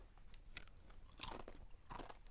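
Several sharp crunching bites into Tyrrell's crinkly crisps, close up, with brief crackling bursts spaced apart and a quiet background, no talking.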